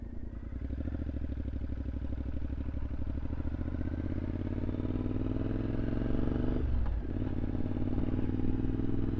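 A motorcycle fitted with a Dart flyscreen rides steadily down a road, its engine drone loud and continuous throughout with rising pitch as it builds speed, plus a brief dip in the engine note near the end.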